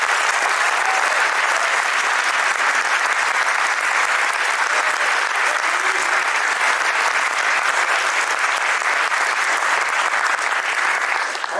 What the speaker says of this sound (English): so let's give those folks a round of applause.